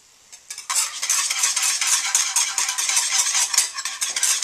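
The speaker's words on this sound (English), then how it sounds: "But then you stir that in there, and what you're left with is a really nice caramel sauce." Heavy cream stirred into hot caramel sauce, a loud continuous hissing bubble with rapid scraping strokes of a utensil against the pan, close and without speech.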